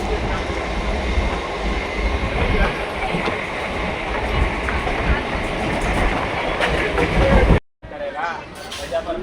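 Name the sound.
moving train, Tamil Nadu to Kerala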